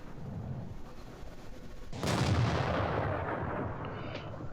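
A tank cannon shot in World of Tanks bursts out as one loud, sharp boom, then a long rumbling tail fades over a steady hum of battle ambience.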